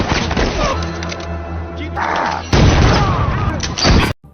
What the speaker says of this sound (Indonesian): langsung melepaskan tembakan ke arahnya